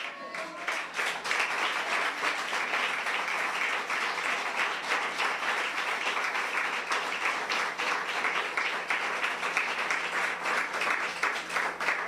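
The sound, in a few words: congregation applause in church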